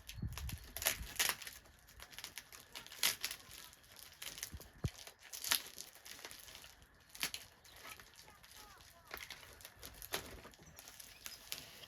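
Repeated sharp ripping and crinkling of packing tape being torn off a plant parcel, in irregular bursts up close and fairly quiet.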